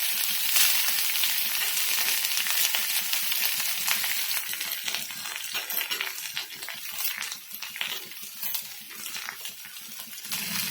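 Chopped onions hit a hot pan for a Kerala-style prawn roast and fry with a steady, close sizzle and crackle that runs the whole time, loud and continuous with a few small clinks and stirring scrapes, no talking.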